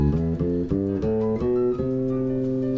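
Bass guitar playing a major scale, several distinct plucked notes stepping upward one after another, fairly close and moderately loud, with the last note left ringing.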